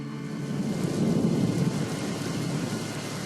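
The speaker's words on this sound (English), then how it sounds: "And then the rain started." Steady heavy rain with a deep rolling rumble of thunder that swells and then fades, dense and loud throughout with no voices.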